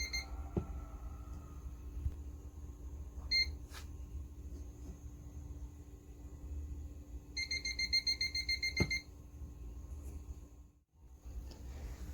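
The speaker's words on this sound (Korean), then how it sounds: "체온이 높거나 그럴 경우에는 이제 알람으로 알려주죠 이렇게." A small non-contact hands-free thermometer powered by three AAA batteries sounds an electronic alarm when it reads a high temperature: two short beep bursts, then a longer run of rapid repeated beeps, fairly clear over steady low room hum.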